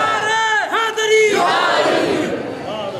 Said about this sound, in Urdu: اصل میں یہ جو نعرے ہوتے ہیں یہ بھی پیارے ہوتے ہیں